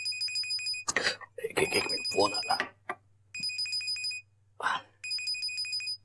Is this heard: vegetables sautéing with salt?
no